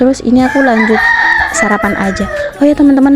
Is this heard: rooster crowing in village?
yes